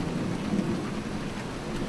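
Steady rain with thunder inside the Roblox driving game, falling on a desert road while a pickup slides on the wet surface; a dense, even downpour rumbles continuously with a low thunder roll underneath, no talk.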